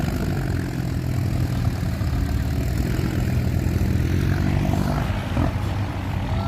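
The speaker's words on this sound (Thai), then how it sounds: "รถไถครับต้องออกแรงอีกรอบนึง" A farm tractor engine labours hard while stuck in soft, sticky mud, a steady loud low-pitched drone with a brief surge of revving near the end, heard close up with no talking.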